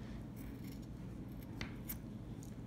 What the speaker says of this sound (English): I think I better use the other scissors, they're sharper.